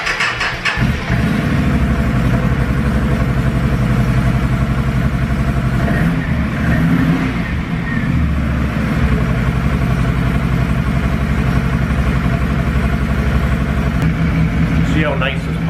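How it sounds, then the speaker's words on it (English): A Can-Am Outlander L 500 ATV engine starts and settles into a steady, close idle, rumbling continuously while someone talks over it. "So let's fire this sucker up, see how she sounds."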